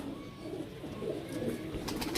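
Soft, low pigeon coos murmur in a steady cluster, moderately close, with a few faint higher chirps near the end.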